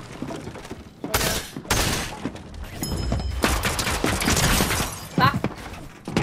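Gunfire in a shooting video game comes as several sharp bursts and cracks spread across the stretch, loud and close, with people talking between and over the shots.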